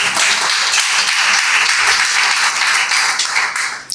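A church congregation claps together in loud, sustained applause that holds steady for about four seconds, with no other sound standing out.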